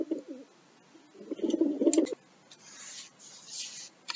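Pigeons coo nearby in soft, low rolling bursts, two clear cooing phrases followed by faint rustling and flutter-like noise.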